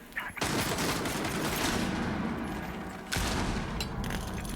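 A C4 explosion and gunfire in a competitive first-person shooter match, a dense sustained roar of rapid fire and blast noise, briefly dipping before another sharp burst picks up.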